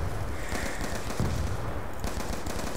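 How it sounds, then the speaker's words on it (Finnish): Rapid gunfire fills a round of Black Ops 2 Zombies, dense bursts of shots against zombies, loud and continuous with a few heavier thumps mixed into the barrage. "Ammutaan yhdellä panoksella 10 samaan aikaan."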